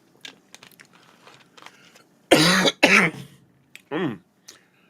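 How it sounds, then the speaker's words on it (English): A person coughs and clears their throat in a couple of strong, close bursts, with a short harsh rasp that trails off, between softer small noises. "had a coughing spell there"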